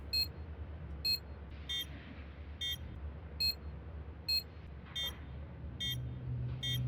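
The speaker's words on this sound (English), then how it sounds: "The bomb, when planted on A site, makes a higher pitched beeping noise than it does when it's planted on B site." Counter-Strike 2 bomb planted on A site beeping in a steady, evenly spaced series of short high-pitched electronic beeps, about one per 0.8 seconds, over a low game ambience hum.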